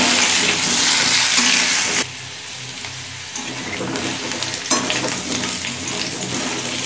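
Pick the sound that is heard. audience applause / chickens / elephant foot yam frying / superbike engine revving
elephant foot yam frying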